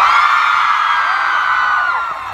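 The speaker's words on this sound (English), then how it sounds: "Just please scream for me." A large concert crowd at a Manila stop of a Park Bo Gum Asia fan tour screams in a loud, sustained roar that fades slightly toward the end.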